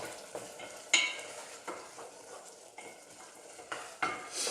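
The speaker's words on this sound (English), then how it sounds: "So again, this is still boiling." Orzo risotto bubbling away in a pot on the heat, a soft crackling simmer broken by a few sharp clinks and scrapes of stirring, with no voices.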